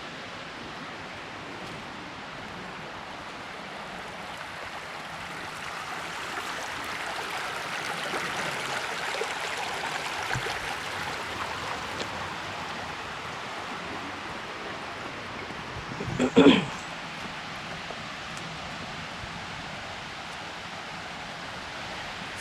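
Creek water flows steadily over rocks near a waterfall at Short Springs State Natural Area in Tennessee, a soft continuous rush heard alone, with one brief louder knock partway through.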